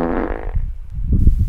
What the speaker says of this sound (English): Why did I, like, fart confetti?